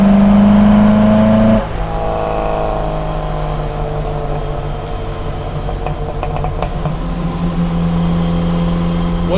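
An Opel Manta A four-cylinder with twin Weber DCOE 40 carburetors revs loud and close, a harsh intake-heavy roar that drops off sharply, then settles into a rough, throbbing idle-to-throttle drone.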